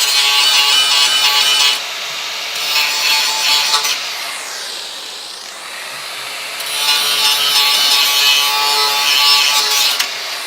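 Grinding or cutting out spot welds on the rocker panel of a Dodge Charger crew cab project car, a loud, steady abrasive whir in two long bursts separated by a brief, quieter pause, with no talk.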